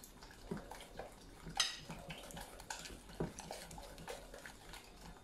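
Eggs are mixed into ghee cake batter in a bowl, with faint clinks of a spoon against the bowl and soft wet stirring sounds that come in scattered, irregular taps and stay quiet throughout.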